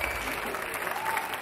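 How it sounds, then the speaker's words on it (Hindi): Faint, brief applause from a television studio audience on a twins talent show, an even wash of clapping lasting a second and a half. "जोरदार तालियां"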